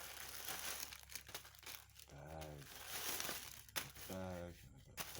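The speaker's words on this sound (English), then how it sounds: "China. Rip that thing up. Some envelope." Paper envelope from China crinkling and tearing open in close, crackly bursts, with speech-like voiced sounds breaking in twice between the rustling.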